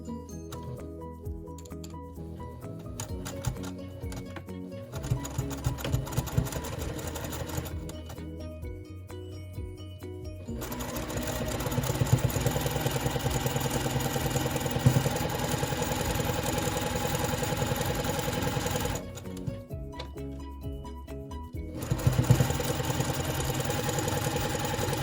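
A sewing machine stitches a quilt seam across a daisy quilt, running in long steady bursts with brief pauses between runs, close and fairly loud, with no talk.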